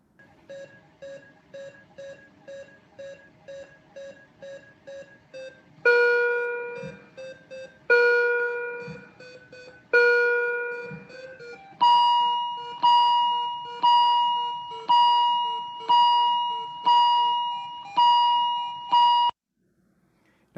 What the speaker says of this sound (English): So if you spent time in a hospital, you might hear a soundscape like this.